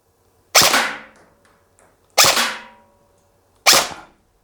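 Three sharp, loud snaps from a KWA Ronin TK.45 airsoft rifle ring out about a second and a half apart, each with a short fading tail, close by in a quiet field.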